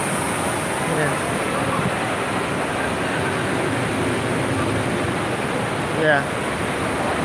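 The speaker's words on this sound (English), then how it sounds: "You can see all this water park here." Dense, steady rush of splashing water and echoing crowd noise in the indoor water park at West Edmonton Mall, with slides nearby, constant and loud with a voice briefly heard.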